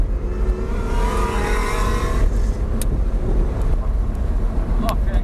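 An Audi R8 accelerates on a race track, a loud engine roar building and sustaining close by while a voice talks over it, with brief sharp transients near the end.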